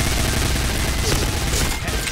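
A suppressed Uzi in the video game Point Blank fires a dense, continuous burst of rapid shots, loud and close, with no pauses.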